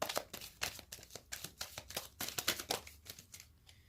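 A Kipper fortune-telling card deck being shuffled by hand, with quick papery riffles and slaps coming in an irregular rapid rhythm, close and fairly quiet, with no talking.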